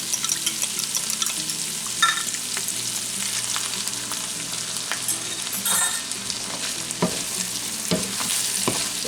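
Eggs, whisked with a fork, scrambling in a hot pan as burrito filling: a continuous close sizzle with repeated scraping and stirring strokes of a utensil, and no talk.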